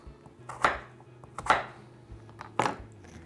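Knife chopping vegetables into small squares about 1.5 cm per side on a board, for a winter salad with roasted Brussels sprouts and sweet potatoes: three distinct, fairly close chops spaced about a second apart over a low background.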